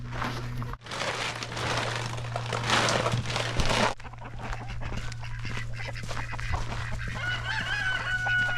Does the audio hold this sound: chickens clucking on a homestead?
yes